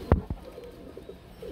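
A red Gorra pigeon, a single male, gives two brief, low, close coos right at the start, followed by quiet room ambience.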